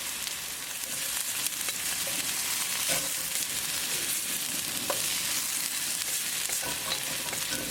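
Onions frying in olive oil on a heavy griddle, giving a dense, steady sizzle with crackles and occasional stirring scrapes, close and loud, with no voices.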